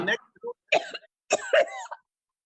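A sharp cough up close followed by throat clearing and brief voice sounds, in choppy bursts separated by silence.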